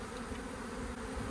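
Honey bees from a five-year-old colony buzz during a hive relocation, a faint, steady, continuous drone with no break and no voices.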